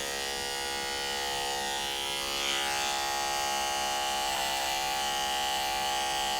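Electric hair clipper cutting straight, light-colored hair: a continuous close, high-pitched motorized buzz that holds steady, with slight shifts in tone as the blades move through the hair.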